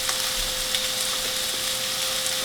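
Ground beef frying in a pan, a steady broadband sizzle with a few soft crackles and pops, even and continuous with no voices.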